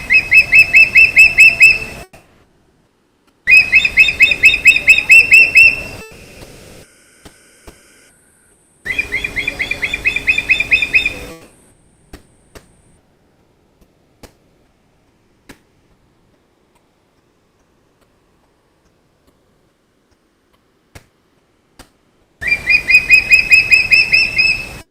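Clean outdoor recording of a bird calling in four separate bursts, each a rapid, rhythmic series of bright, ticking call notes, with clear silent gaps between bursts.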